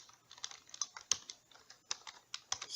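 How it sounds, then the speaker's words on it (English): Quiet, close computer keyboard typing while HTML code is entered, with irregular rapid clicks and a few sharper keystrokes in a soft, continuous run. "Then I close my h2, and I type this is a"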